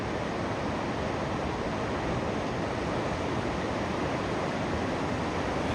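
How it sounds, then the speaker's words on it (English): A big river rapid on a boreal canoe route in Wabakimi roars like a waterfall, a loud, steady broadband rush of churning whitewater that fills the whole stretch without a break and with no voices. "I got a bigger rapid coming up here. Kind of sounds like a waterfall, honestly."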